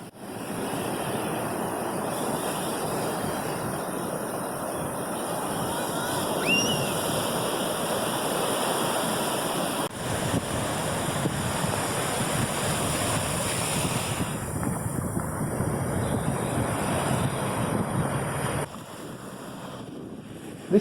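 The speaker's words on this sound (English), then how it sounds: "Our last full day on the beach, and time for a swim in the Caribbean." Caribbean surf on a Cancun beach, continuous rolling waves mixed with heavy wind buffeting the microphone, steady for about twenty seconds with no talking.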